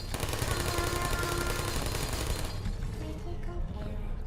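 Automated sentry turrets in the video game Portal fire at the player in rapid bursts, a loud, dense rattle of gunfire that thins out partway through.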